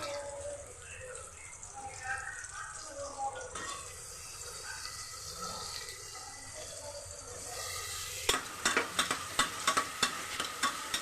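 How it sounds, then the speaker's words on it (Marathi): Tomatoes sautéing in a pan over already-browned onion for masale bhat give a steady hiss with a soft voice beneath, then sharp spoon scrapes and clicks from repeated stirring near the end. "टोमॅटो पण चांगलं परतून घ्यायचं."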